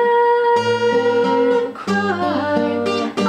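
An acoustic guitar strums chords, ringing close and clear with several chord changes in a steady rhythm, and no talking.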